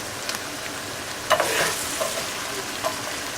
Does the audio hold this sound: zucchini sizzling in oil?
yes